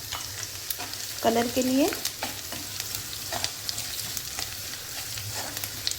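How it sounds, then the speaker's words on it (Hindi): Spices crackle and fry in hot oil as turmeric goes into the pan for a home-cooked chili dish, a soft continuous sizzle with stirring and scraping, and someone speaks briefly over it. "इनको ज़रा सा बस तड़कने देंगे और इसी के साथ में डालूँगी हल्दी भी"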